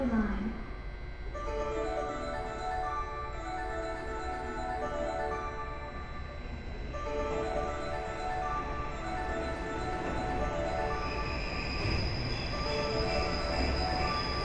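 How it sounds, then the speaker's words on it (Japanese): A diesel railcar bound for Kameyama rumbles and drones steadily with a tonal engine hum as it rolls into a station on the Kansai Main Line, its pitch shifting slightly toward the end. "亀山行きの、ディーゼルカーが入線してきました"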